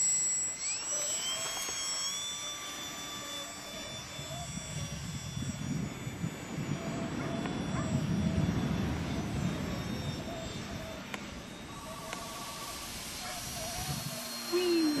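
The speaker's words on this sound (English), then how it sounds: "Wow, this is a great airplane." A Pitts R/C biplane model flies at Santa Cruz Beach, California, its small engine droning as a thin whine that rises and falls over wind and surf noise through most of the stretch.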